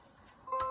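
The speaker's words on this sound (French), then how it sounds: "Ah, ça, c'est les notifications." A computer notification sound, a brief soft double-tone chime near the end of a quiet moment.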